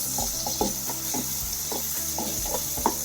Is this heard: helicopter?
no